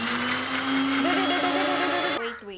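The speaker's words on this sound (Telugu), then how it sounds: "ఇది కూడా మనం మిక్సీ వేసేసుకొని గ్రైండ్ చేసేసుకుందాం" A kitchen mixer grinder whirs loudly and steadily as it grinds curry ingredients for paya, its motor pitch rising partway before it cuts off abruptly near the end.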